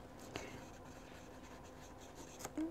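A Lamy Safari fountain pen with a fine nib, filled with Noodler's Heart of Darkness ink, scratches softly across Clairefontaine lined paper in short, faint, close strokes with light taps, and no one talks.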